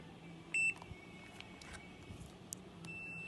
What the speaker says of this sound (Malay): if the buzzer is on, that mean digital meter can be used.